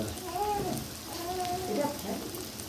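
Spices sautéing in a pan for a curry, heard as a soft, even crackle and sizzle with faint scraping of stirring, under a voice speaking throughout.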